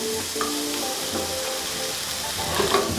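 Oranges and chilies sizzle and fry steadily in a hot pan with fennel seeds and chili flakes for a summer squid salad, a continuous close crackle with a few stirring scrapes.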